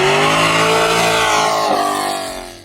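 Naturally aspirated C5 Corvette Z06 fitted with a Corsa Extreme exhaust revs loudly up close, its engine note sustained and rising in pitch before fading out near the end.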